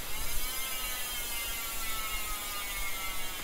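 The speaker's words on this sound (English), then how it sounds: "the wheels are Industry 9 Trail S wheels with the Hydra hubs, which sound like this" A rapid, continuous buzzing ratchet of an Industry 9 Hydra freewheeling bicycle hub on Trail S wheels, a dense high whir of fast clicks running steadily at close range.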